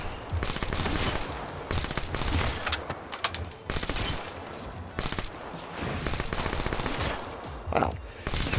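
Rapid automatic gunfire fires at zombies in Black Ops 3 custom zombies, a Bart Simpson's bedroom map, with loud sustained bursts broken by short pauses and clattering mechanisms.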